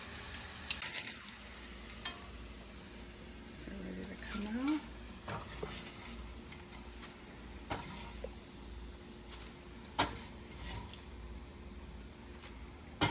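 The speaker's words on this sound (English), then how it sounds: "let's continue frying these another minute or two until they turn golden brown" Tortilla strips fry in hot oil for a Tex-Mex chicken tortilla soup, a soft, steady sizzle with faint stirring clinks, quiet under a person talking.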